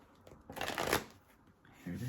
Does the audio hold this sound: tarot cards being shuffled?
yes